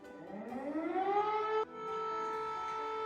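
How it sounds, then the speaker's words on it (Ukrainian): An air raid siren rises in pitch and then holds a steady, wailing tone, heard at a moderate distance with nothing else around it. "І ось під час нашого заняття трапилась тривога."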